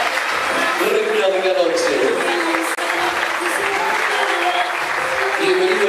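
Steady applause from guests at a quinceañera celebration, dense and continuous throughout, with a host speaking over it and music-like tones underneath.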